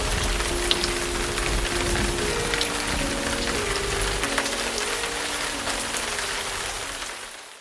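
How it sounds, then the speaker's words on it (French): Steady rain patters on tarmac outdoors, with a faint tonal hum underneath, fading slightly at the end. "Je regarde tomber la pluie. 1000 gouttes ont chanté sur le tarmac."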